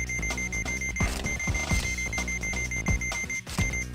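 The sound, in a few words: alarm in video game Trauma Center: New Blood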